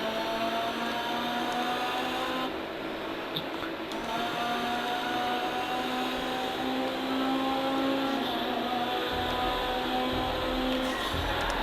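A Lamborghini Miura-style Pegassi Monroe engine in GTA V Online drones steadily with shifting tones, a continuous mechanical whine at moderate volume, with no talking.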